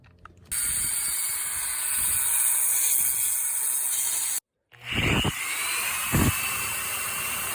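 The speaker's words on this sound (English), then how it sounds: "take an angle grinder and just cut these bolt heads" An angle grinder cuts the heads off bolts driven into the wooden axle of a covered wagon, a loud continuous grinding whine that breaks off briefly, then resumes with sharper bursts, with no talk.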